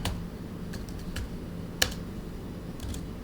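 Scattered keystrokes on a computer keyboard while entering HTML text, a few sparse clicks with one sharper tap, close and fairly quiet over a low room hum.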